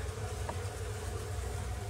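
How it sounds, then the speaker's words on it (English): Honey bees buzzing steadily inside a bedroom hive where wax moth had been, a continuous low drone with no break. "Just bees and their honey."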